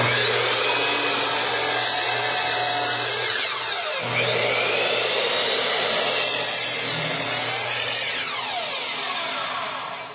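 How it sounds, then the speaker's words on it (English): A table saw makes a bevel cut, its blade whining loudly and steadily for the whole stretch, dipping briefly as the blade bites and loads in the workpiece, then easing off slightly at the end, with no voices. "bring the blade up, just like that, and make the bevel cut"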